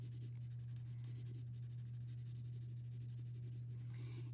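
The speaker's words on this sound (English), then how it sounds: "the closer I get to the center, the lighter my pencil lines become" A pencil draws vertical strokes on paper, a quiet continuous scratching with faint stroke rhythm, under a steady low electrical hum and with no talking.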